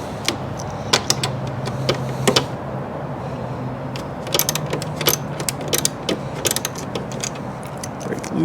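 Ratchet clicks and metallic creaks as a 10 mm bolt holding a Rizoma Stealth mirror is worked loose on a Yamaha R7, sharp ticks in irregular short bursts, close and moderately loud over a steady low hum.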